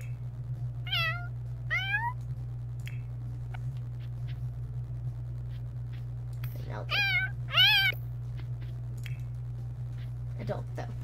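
Kitten in The Sims 4 Cats and Dogs gives several short, rising meows, a pair early on and a louder pair a few seconds later, over a steady low game-music hum.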